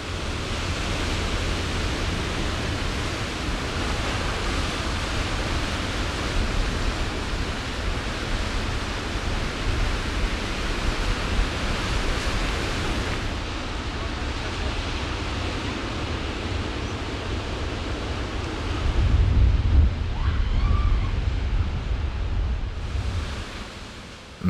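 Atlantic waves roll in off the Dingle peninsula in Ireland, a steady, broad wash of surf that fills the scene, swelling a little louder toward the end with no voices.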